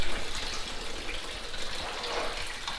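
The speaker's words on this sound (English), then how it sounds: "draining the water out of his car, all over the ground" Water drains out of a car and onto the ground in a steady, loud gushing splash that carries on unbroken and close, with no talking.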